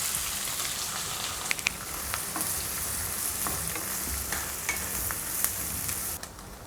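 Two onions dropped into hot oil already frying mustard seeds and cumin, giving a loud, continuous sizzle with occasional sharp crackles and pops, close up and without speech.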